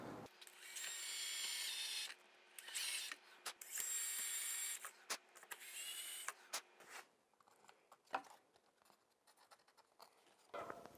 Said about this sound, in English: I'm just going to plunge through here and make my own hole with the router and the bit here in a second